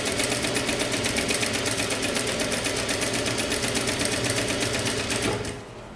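A sewing machine runs steadily, stitching a kimono jacket seam with a fast, even mechanical chatter up close, then stops abruptly near the end, leaving a quieter hum.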